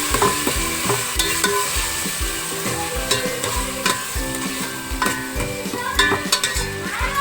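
Urad dal with onions being stirred in a sizzling pan of oil, steady frying hiss under repeated scraping, clattering spoon strokes, close and loud throughout.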